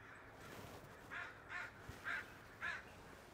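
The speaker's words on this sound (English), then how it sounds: "Crow flying overhead again." A crow flying overhead at a marsh caws four times at a steady pace, each call short and harsh, heard at a moderate distance over quiet outdoor background noise.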